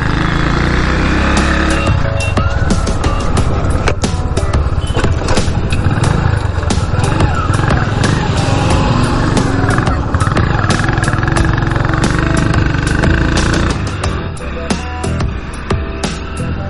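A 100cc motorcycle runs along the NH27 highway during a tyre test, its engine droning steadily and loud with rough wind buffeting throughout, easing off slightly near the end.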